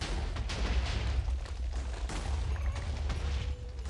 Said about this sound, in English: that should be a big explosion now